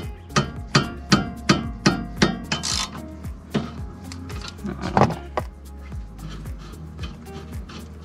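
A 13 mm socket wrench works a rear brake caliper bolt on a Fiat Bravo, giving a run of sharp metallic clicks and knocks, evenly spaced at first and then sparser, close and fairly loud.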